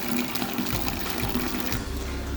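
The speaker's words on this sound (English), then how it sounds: "Just running the pump to get all filtered water in the mash tun." Pump pushing carbon-filtered water through food-grade hoses into a mash tun while brewing a black IPA, giving a steady, close rush of running and filling water with a low mechanical hum underneath, unbroken for the whole stretch.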